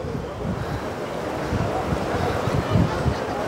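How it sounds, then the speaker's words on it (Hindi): The Ganges at Haridwar running fast, a dense, steady rushing roar of water heard close and loud, mixed with gusty wind buffeting the microphone. "आज जल का बहाव काफ़ी तेज़ है"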